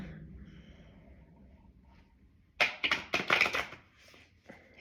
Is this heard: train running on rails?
no